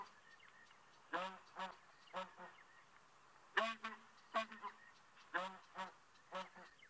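A recording of a ground hornbill call is played back at dawn: a series of deep, booming hoots in short rhythmic groups, loud and close over a quiet background.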